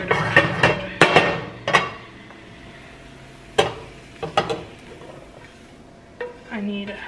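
Chicken pad thai being tipped into a big pot and stirred, with sharp metallic clanks and scrapes of a utensil against the pot arriving in irregular clusters, close and fairly quiet, with a faint sizzle between them.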